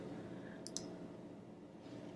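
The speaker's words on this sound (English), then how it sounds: "Sorry for all the unnecessary clicking." A computer mouse gives a few sharp, quick clicks, a close pair and then one more, over a low steady background hum.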